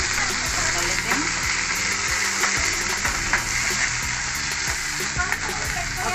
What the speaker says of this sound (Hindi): तो ये हमने डाल दी है मटर, और इसको भी हम पका लेते हैं।